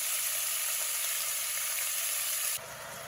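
Beef pieces sizzle steadily in a hot pan, seasoned with salt and pepper, a dense continuous hiss that drops abruptly in level near the end, with no talking.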